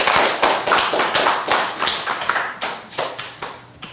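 A small audience at a Buddhist temple sermon claps in a quick, uneven burst of sharp hand claps that rises and fades over a few seconds, with no voices.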